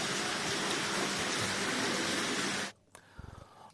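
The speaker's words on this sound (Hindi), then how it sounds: "बारिश ने राजधानी भोपाल की सूरत बिगाड़ दी है।" Heavy monsoon rain pouring in Bhopal, a loud dense continuous hiss of rain on surfaces that cuts off abruptly near the end, followed by a few faint low thumps.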